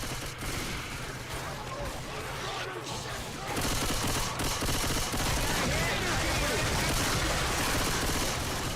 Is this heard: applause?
no